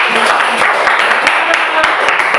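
Audience applause in a classroom group presentation session, loud dense clapping from many hands filling the room, close and continuous throughout.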